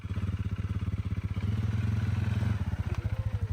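An ATV engine putters close by with a steady, pulsing beat as it is driven off-road on a farm, rising briefly in the middle and settling back, with no voices over it.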